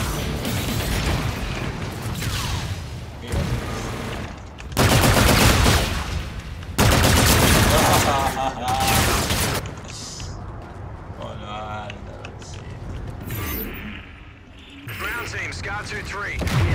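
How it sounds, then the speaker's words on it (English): Call of Duty Infinite Warfare combat: heavy bursts of gunfire and booming explosions come in long, loud blocks, with quieter gaps where mechanical clatter and radio-style voices come through. "Danger close, shots out."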